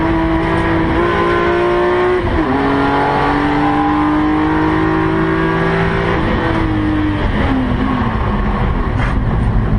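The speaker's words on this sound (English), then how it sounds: "I was watching a guy downshift in a 6." A car engine revs loudly up through the gears, with sharp drops in pitch as the driver downshifts at intervals, a sustained close droning roar without voices.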